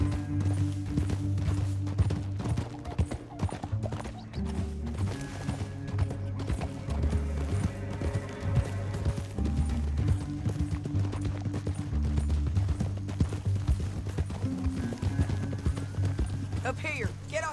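Horse hooves clip-clopping steadily in Red Dead Redemption 2, the riding beat running beneath an ongoing music score and voices talking throughout.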